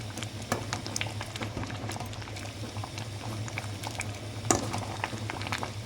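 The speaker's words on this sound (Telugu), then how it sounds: "పప్పు చూసారు కదండి ఎంత బాగా అనేది ఉడుకుతుందో" Lentils (dal) boiling in a pot, a quiet steady bubbling with scattered pops and a low hum beneath, one louder burst partway through.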